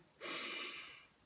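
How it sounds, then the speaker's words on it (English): A single deep inhalation during a home kickboxing workout warm-up stretch, a close, clear breath in lasting about a second, with no talking over it. "Once again, deep breath in"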